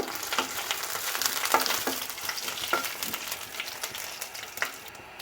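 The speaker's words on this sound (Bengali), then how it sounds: "আমার পাঁচ ফোড়নটা ভাজা হয়ে গেছে" Panch phoron whole spices with two dried red chillies sizzle in a little hot oil while being cooked for a cauliflower, potato and koi fish curry, a soft continuous crackle broken by occasional stirring clicks.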